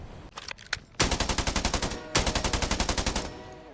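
Automatic gunfire in the Scarfall video game: a few scattered shots, then two long, rapid bursts of evenly spaced, loud rounds separated by a short pause.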